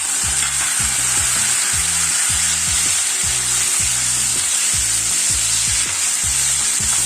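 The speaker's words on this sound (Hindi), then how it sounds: "हरी मिर्चों को हमने 2 से 3 मिनट फ्राई करना है।" Green chillies frying in hot oil with ginger and garlic for a mutton dish, giving a loud, steady sizzle and crackle close up, with a rhythmic low scraping of stirring underneath and no voices.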